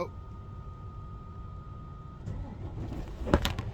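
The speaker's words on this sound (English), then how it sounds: "Oh shit! There it is. Truck started." A truck engine starts up, low rumbling idle giving way to a rougher, louder churn and a few clanks at the end, heard fairly faintly from close by.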